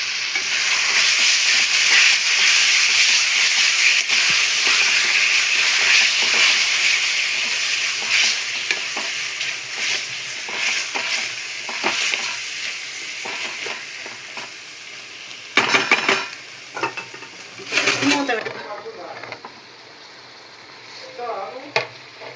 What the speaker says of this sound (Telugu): దాంతోపాటు ఆనియన్తో పాటు చికెన్ కూడా ఫ్రై అవుతుంది కాబట్టి తొందరగా వేసుకోవచ్చు